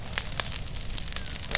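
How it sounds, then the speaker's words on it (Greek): A Judas effigy burns outdoors, giving off steady crackling and hissing flames with several sharp pops scattered through the short stretch, close and fairly loud. "του βάλαμε φωτιά τώρα"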